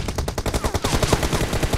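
Rapid automatic M416 rifle fire in a team deathmatch shooter video game, a dense, loud burst of evenly spaced shots lasting nearly two seconds.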